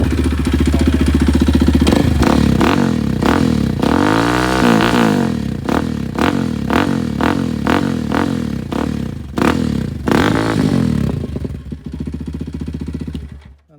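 Used Kawasaki KLX230 dirt bike engine running loud and close, its single-cylinder beat rising and falling through a series of repeated throttle blips and revs before dropping away near the end.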